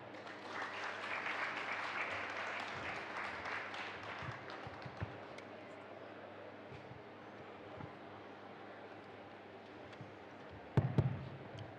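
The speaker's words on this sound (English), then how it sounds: "One more round of applause kindly for the Somali team" Audience applause for the Somali team at the Africa Food Systems Forum conference, a broad wash of clapping that swells early and then fades to a softer patter, with a few louder knocks near the end.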